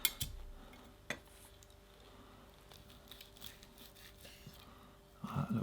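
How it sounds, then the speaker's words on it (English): A knife slicing into a cooked beef tenderloin steak with a crispy crust, giving a few soft scrapes and light clicks of metal on a plate, including a sharp tap at the start and a louder clatter at the end. "Now let's cut a piece of the tenderloin and see how that looks inside"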